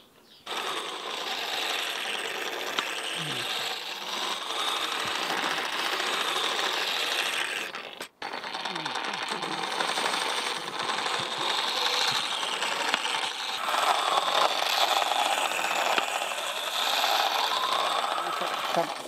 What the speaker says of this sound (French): Une affûteuse de lame Koenig.